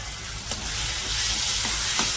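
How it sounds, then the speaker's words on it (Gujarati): Tomatoes and carrots frying in a pan for Indian-style masala pasta give off a loud, steady sizzle, close up, with a few faint stirring knocks and no talking. "ટમેટા ગળી ન જાય જ્યાં સુધી આપણે આને શેકી લેવાના છે"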